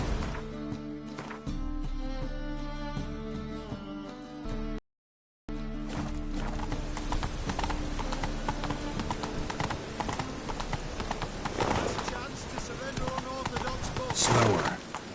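Roach the horse galloping in The Witcher video game: a quick, continuous clip-clop of hooves over a game music bed, with a brief drop to silence partway through and a louder burst near the end.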